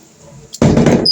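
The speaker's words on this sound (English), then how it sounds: "I'm just throwing this water off" Water being thrown off a plant tray in a small-space garden: after a quiet start and a soft knock, a loud close splash of pouring water lasts about half a second.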